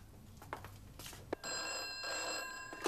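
An old telephone bell rings continuously indoors, starting after about a second of faint room noise and light clatter, fairly loud and steady to the end.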